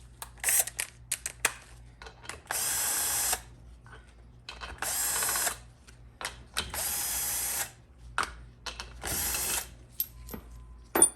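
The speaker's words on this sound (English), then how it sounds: "Now you can remove your extension housing bolts." A tool removes the extension housing bolts on a Ford 4R100 transmission, with loud whirring bursts of a few seconds alternating with sharp ratcheting clicks and clanks, all close and with no talk.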